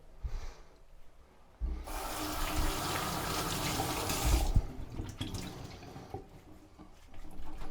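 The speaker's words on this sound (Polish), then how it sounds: "Później zwilżę ją wodą." Running tap water wets a cloth during home sake making, a steady loud rush that starts abruptly and cuts off after a few seconds, with quieter handling sounds around it.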